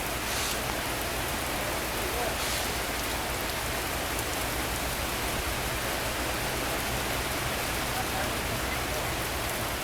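Heavy rain pours steadily at a railway station on the Guwahati–Sairang route, a dense, constant hiss of drops drumming on surfaces close by, with no let-up across the whole stretch.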